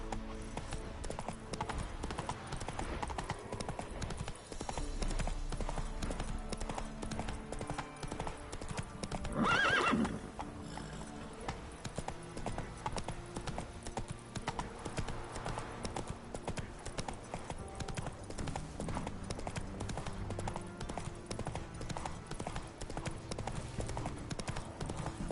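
Roach, the horse from The Witcher 3, trots with a steady clip-clop of hooves, a brief whinny partway through, under continuous in-game music.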